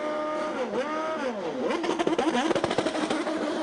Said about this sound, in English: You heard the rev limiter as he brought it up to maximum revs